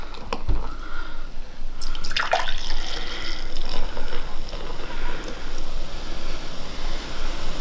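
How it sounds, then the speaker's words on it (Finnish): Canned lonkero long drink poured into a glass, a close, steady fizzing pour with a splashy burst early on, then continuous bubbling and trickling throughout. "Koska tää on lonkero, niin sitä ei varmaan tarvitse kaataa kunnolla."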